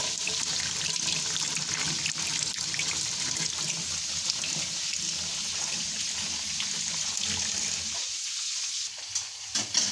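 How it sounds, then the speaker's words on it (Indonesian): A kitchen tap runs steadily while hands are washed at home during cooking, a continuous soft hiss of flowing water with a few small splashes near the end. "Biar air mengalir."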